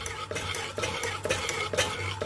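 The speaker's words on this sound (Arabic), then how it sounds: "هنضلنا نقلب فيه، ما نسيبهوش عشان ما يكلكعش" A spoon stirs caramel cream in a pot with a repeated scraping rhythm, about four strokes in two seconds, close by, with a faint sizzle underneath.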